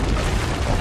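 Cannon fire from the ramparts in Assassin's Creed: Brotherhood lands as a dense, continuous boom that fills the short moment with heavy low rumble and broadband blast noise, loud and close.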